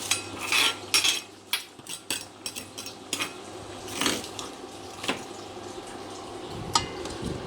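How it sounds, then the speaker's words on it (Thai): Water scooped into a stone mortar to rinse it while cooking a Thai dish, heard as close clinks and clatters of utensil against mortar with light splashing, in irregular bursts with no talk. "แล้วก็ตักน้ำเอามาใส่ในครก เพื่อว่าเราจะล้างครกตรงนี้นะคะ"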